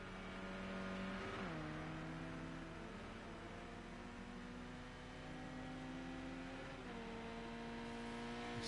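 Race car engine in a touring car racing video game, a steady loud high-pitched drone that rises through the gears, with sharp drops in pitch at upshifts or braking, running continuously throughout.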